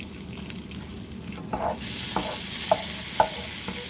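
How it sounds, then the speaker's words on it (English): Butter melting and sizzling in a pan just emptied of chicken, a steady broadband hiss with a few soft clicks of a utensil against the pan. "Now we're just going to add the butter to the pan and let that melt."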